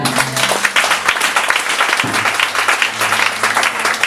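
A church congregation applauding and acclaiming during a French-language service, with dense steady clapping, a sustained tone from music underneath, and voices mixed in throughout.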